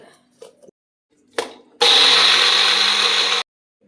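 An electric mixer grinder blends chutney with turmeric and chili powder in a home kitchen, a loud, steady whirring burst lasting under two seconds, preceded by a few soft knocks and clatters.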